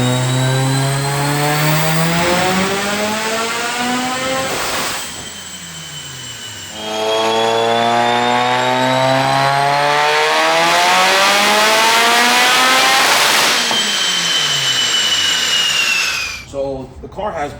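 A Mitsubishi Evo engine with a Haltech tune and rolling antilag revs up repeatedly, pitch climbing in long sweeping pulls with a pause between them, loud and close, then cuts off at the end.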